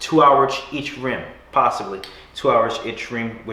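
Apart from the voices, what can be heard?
None of the usual background noises is heard.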